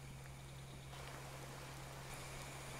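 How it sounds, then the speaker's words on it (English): Steady rain falls in the tropical island survival card game Card Survival: Tropical Island, a continuous broadband hiss with a low hum, no voices. "Okay, it's raining again."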